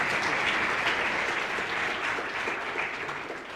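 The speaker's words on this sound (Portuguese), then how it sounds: "Palmas." A room full of audience members applauding at a lecture, a dense, steady wash of clapping that fades slightly toward the end.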